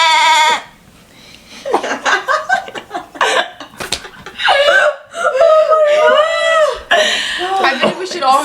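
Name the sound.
person imitating a goat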